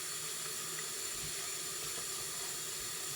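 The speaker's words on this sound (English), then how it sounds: "I'm gonna put a little bit more water on here." Tap water runs steadily from a kitchen faucet over turkey legs being thawed in a sink, a constant close hiss with no voices.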